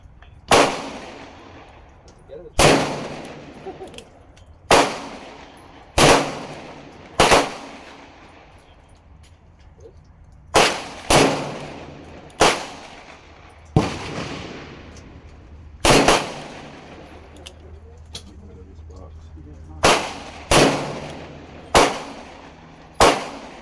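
A Colt Kodiak .44 Magnum revolver fires about sixteen loud, sharp shots outdoors, spaced in uneven bursts with short pauses between groups, each crack ringing off briefly.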